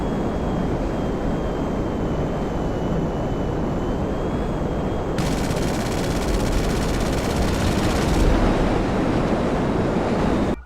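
A Hydra jet dive-bombing in GTA 5 Online gives a loud, steady roar of engine and rushing air. A dense, buzzing burst of rapid gunfire joins partway through and lasts a few seconds before the roar carries on alone.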